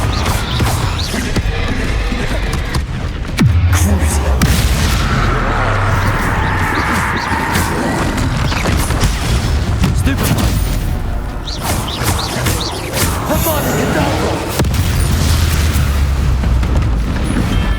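In the video game Hogwarts Legacy, Confringo spell explosions boom loudly and densely, with rumbling blasts and crackling bursts layered over a busy battle, close and continuous, with voices heard briefly.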